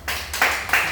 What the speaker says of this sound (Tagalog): Pwede bigyan natin ng palakpak ang group 1.